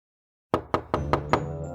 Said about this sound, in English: There was a knock on Sakura's door